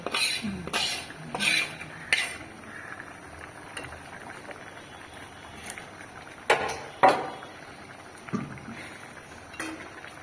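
Fish going into a hot cooking pan in a village kitchen, with clattering of utensils against the pan and scattered stirring knocks, some bursts loud and close, others quieter.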